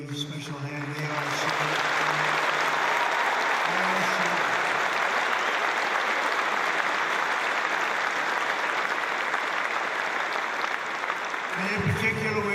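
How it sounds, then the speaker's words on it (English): US troops in Qatar applaud their Qatari military partners, a dense, steady wave of clapping that swells in quickly and holds at full strength for about ten seconds before a voice returns. "Let's give them a really special hand"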